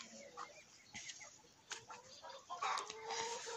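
Farmyard chickens and a black rooster cluck in short irregular bursts, close by and moderately loud, with occasional soft rustling between calls.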